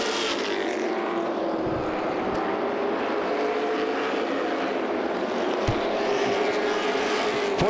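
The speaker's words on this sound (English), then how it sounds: "as the cars come back down the front straightaway" Late model stock cars roar down the front straightaway at a 2004 North South Shootout race, a loud, continuous engine drone of the pack passing close by, steady throughout with no voices.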